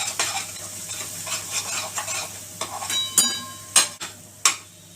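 Spices including turmeric, garam masala, chilli and coriander-cumin powder roast in a pan for a sweet corn curry, with a soft sizzle under repeated scraping and clinking stirs of a spoon that grow louder toward the end.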